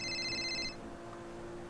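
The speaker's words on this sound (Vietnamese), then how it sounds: "Lại có điện thoại." A telephone rings inside the video game GTA, a short electronic tone with bright harmonics lasting under a second, then cutting off to steady background hum.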